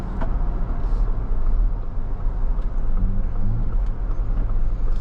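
A 2024 Ford Bronco Raptor cruising with steady low engine and road rumble throughout, with a faint rising pitch shift midway as the transmission drops a gear while slowing; no talking.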